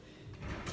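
Kitchen drawer sliding open or shut: one short, close scraping rumble lasting under a second.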